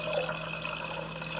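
Generic apple cider vinegar being poured into a pot of barbecue sauce, a faint, steady liquid trickle lasting just over a second.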